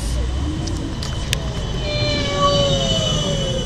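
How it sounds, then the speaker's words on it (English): A tram rolls past nearby with a rumbling rattle and high metallic wheel squeals rising over it, while people talk in the background. "Look! It's a tram."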